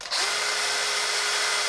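Power drill boring a 6mm pilot hole in a box during a workshop build, a steady high whine starting abruptly after a brief pause and running continuously, close and loud with no talk.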